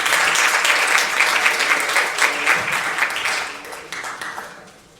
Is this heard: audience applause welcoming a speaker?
yes